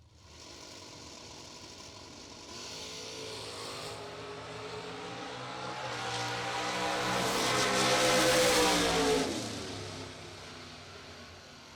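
Drag racing door cars wait at the lanes during a bracket race. Their engines idle with a rough, rattling burble, then swell into a louder rev that peaks and fades back.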